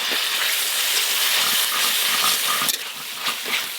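Dried red chillies ground by hand on a stone slab (shil) in a village kitchen, a steady rough scraping and rubbing that continues without pause, close and fairly loud, with a brief knock near the end.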